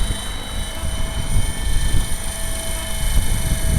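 A Gaui X5 RC helicopter flies nearby, its rotor giving off a steady, loud whirring drone with a faint whine and wind buffeting.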